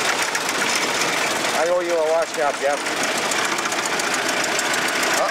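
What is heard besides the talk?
1914 Ford Model T engine running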